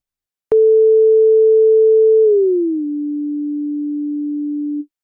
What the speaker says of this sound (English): our signal starts at 440 Hz at a loud amplitude, then transitions down to around 300 Hz at a much quieter amplitude